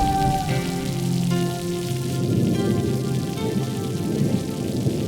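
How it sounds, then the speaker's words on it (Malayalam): Steady, unseasonal heavy rain pours continuously throughout, a dense even wash of falling water with faint tonal music underneath and no talking. "എന്തൊരു മഴയാ!"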